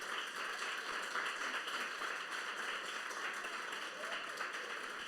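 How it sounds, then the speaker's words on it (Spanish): A church congregation gives sustained applause during a Spanish-language sermon, dense clapping that stays even and continuous throughout, heard from within the room. "Denle un fuerte aplauso al Señor entonces."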